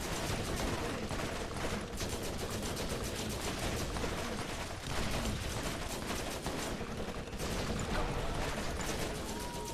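Dense gunfire fills a Borderlands video game battle, with rapid continuous shots and bursts layered into a loud, unbroken clatter of weapon fire that lasts throughout.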